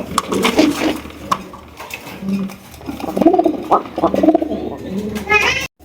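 A pair of ghiyachulli pigeons coo softly in short, repeated bursts nearby, with someone talking throughout and occasional clinks in the background.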